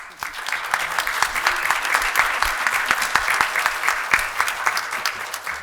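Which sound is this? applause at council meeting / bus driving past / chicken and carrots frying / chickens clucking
applause at council meeting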